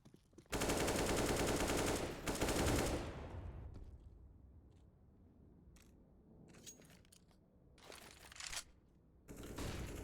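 AK-47 rifles firing in Counter-Strike on the Overpass map at a competitive match: loud sustained automatic bursts open the clip, then scattered shots and clatter in quieter game ambience, with another burst near the end.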